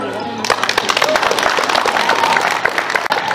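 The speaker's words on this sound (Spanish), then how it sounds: "¡Fuerte los aplausos, señores!" Guests at a silver wedding anniversary party break into loud, dense applause close by, many hands clapping together while voices carry over the clapping throughout.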